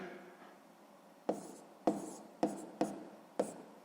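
A pen scratches figures onto paper during a sixth-grade math exercise, a faint rubbing stroke followed by five quick, crisp marks at a steady rhythm, close and quiet with no talk.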